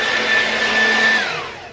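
A hair dryer blows on freshly cut hair with a loud, steady airy whine close by, then winds down as it is switched off.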